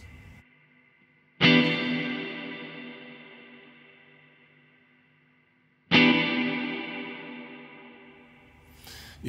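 Guitar through a Baby Audio Crystalline algorithmic reverb: two loud struck chords, each leaving a long, slowly fading tail in which bright high overtones linger, with no voices.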